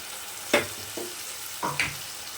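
Ground coriander and ginger-garlic paste sauté and sizzle in a pan for green moong garlic dal, a steady hiss broken by four distinct scraping strokes of a spoon, close and without talk.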